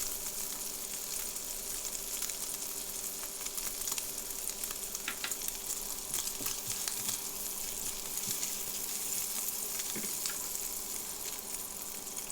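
Bacon sizzles steadily in a pan with lentils added, a continuous dense crackle with scattered pops and faint stirring scrapes, close and even throughout.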